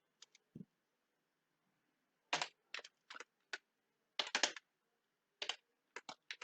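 Sparse clicks on a computer keyboard while Java code is typed, with a few quick clusters of keystrokes separated by quiet gaps, close and faint.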